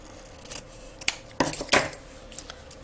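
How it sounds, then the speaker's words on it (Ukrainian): Scissors cut through satin ribbon with a few crisp, close snips spaced irregularly, and quiet handling noise between the cuts. "прикладаю до атласної стрічки і відрізаю"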